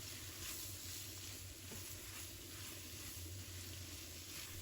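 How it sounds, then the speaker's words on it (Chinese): Sliced cucumber stir-fried over high heat in a wok with egg, sizzling in a loud, steady hiss with faint scraping of constant tossing and no voices. "在炒青瓜的过程中要不停翻炒"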